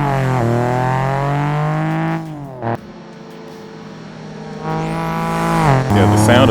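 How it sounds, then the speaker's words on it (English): A tuned Toyota Celica GT4 in the racing game Assetto Corsa revs hard and climbs through its gears, then drops off sharply into a quiet lift. It roars back to a high rev near the end, loud and close. "the sound of this Celica is just something great to me"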